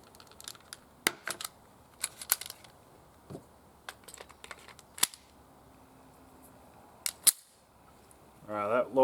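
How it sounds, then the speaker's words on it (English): Rounds being pressed into a Taurus GX4 pistol magazine, heard as sparse sharp clicks and snaps spaced a second or so apart, close and fairly crisp, with a brief rustle of handling at the end. "Doesn't want to load these rounds."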